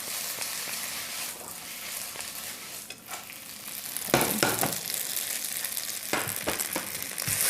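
Noodles fry until crispy in hot oil for a Thai drunken noodle dish, giving a steady close sizzle with louder crackling bursts as they are stirred and turned, with no talk.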